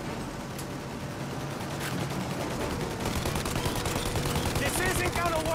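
Gunfire aimed at the engines of a plane in Mafia: Definitive Edition, dense rapid shots over a roaring mechanical din that builds steadily and stays loud throughout.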